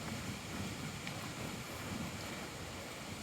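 Steady wind buffets a microphone outdoors near trees and a lake on a summer hike, a constant rushing roar with no breaks.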